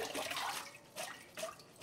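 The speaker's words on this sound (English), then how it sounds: "So now we're gonna take this right away over to the sink. Cold water." Cold tap water running over freshly cooked lo mein noodles in a kitchen sink, a steady splashing rinse that swells and eases in short bursts, close by with no talking.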